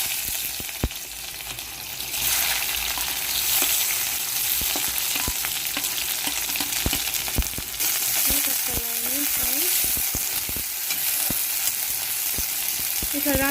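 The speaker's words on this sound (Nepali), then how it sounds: "तेल खर्यो, अब यसमा हामी प्याज लाउँदैछौँ।" Onions hit hot oil for a chicken curry, giving a loud, steady sizzle and crackle that runs throughout, with scattered clicks and scrapes of stirring and no talking.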